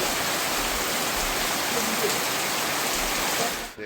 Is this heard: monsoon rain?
yes